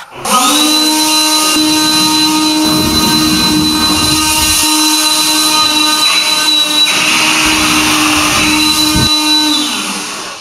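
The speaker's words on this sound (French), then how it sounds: "C'est une machine soufflante." A blower machine runs steadily at close range, a loud continuous whine with a strong steady tone and broadband rushing air, starting up and winding down at the ends, with no talk over it.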